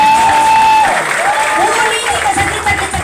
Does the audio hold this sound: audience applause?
yes